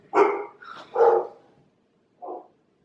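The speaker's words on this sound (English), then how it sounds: "Dogs are barking at something." Dogs bark nearby in a short burst, two loud barks close together, then a pause and one more softer bark, with quiet between.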